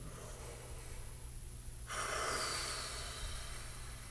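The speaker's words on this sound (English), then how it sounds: "And breathe in." One deep, close breath drawn in through the mouth before playing the trombone, a sudden airy inhale that begins about halfway through and holds steady after a quiet start.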